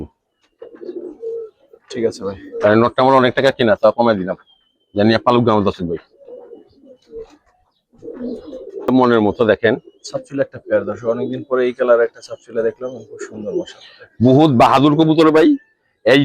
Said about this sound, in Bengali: বহুত বাহাদুর কবুতর